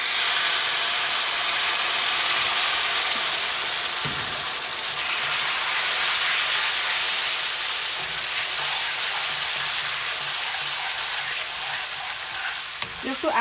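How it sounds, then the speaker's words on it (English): Sugar syrup is poured little by little into semolina for rava kesari on a stove at medium-low heat, with a continuous loud sizzle and hiss, scraping stirs and a few knocks of the spoon against the pan, no voices. "I'm going to add the sugar syrup to the semolina little by little"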